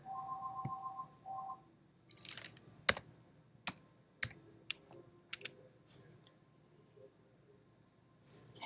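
Keystrokes on a computer keyboard entering values into software, a scattered series of sharp clicks with uneven gaps, some in quick bursts, fairly close and quiet against a faint background hum.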